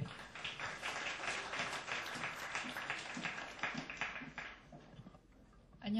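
A crowd claps to welcome an award presenter at a year-end Korean startup awards ceremony, brisk moderate applause that thins out and fades near the end.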